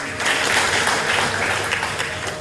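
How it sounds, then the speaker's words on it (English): A room full of people gives a steady round of applause at a Sikh religious gathering, the clapping dense and continuous at a moderate distance, with faint voices mixed underneath. "A round of applause for him, please."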